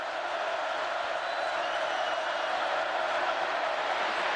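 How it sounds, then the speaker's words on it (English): Football crowd noise at the Swamp stadium in Florida during a college game, a steady, dense roar of many voices filling the whole stretch without letup. "Crowd starts to make some noise here at the Swamp"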